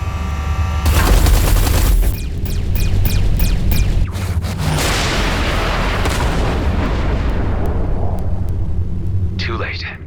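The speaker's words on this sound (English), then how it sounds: "Watch out, the artillery." Heavy artillery barrages boom in the space combat game Everspace 2, with dense sustained blasts and rumbling impacts filling the scene alongside a loud game soundtrack, with voices speaking over the action.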